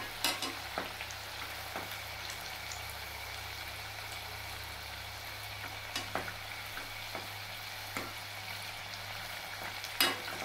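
Sweet pumpkin pakoras fry in hot oil with a steady, close crackling sizzle and occasional sharper pops, alone without voices.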